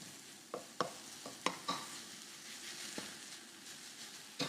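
Ingredients are stirred in a pan over the heat, a spoon scraping and knocking against the pan in irregular strokes above a soft, steady sizzle of frying food.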